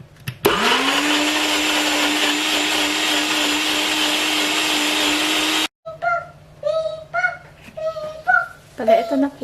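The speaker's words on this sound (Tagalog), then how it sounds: "I-blend lang po natin siya." Blender whirring steadily as it blends bulgogi marinade, loud and close for several seconds before stopping abruptly, after which a voice and other speech follow.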